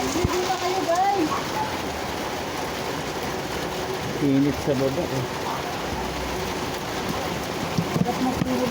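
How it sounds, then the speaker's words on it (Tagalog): Heavy summer rain pours in a dense, constant hiss and patter on nearby surfaces, while a person talks briefly over the downpour. "malakas yung ulan"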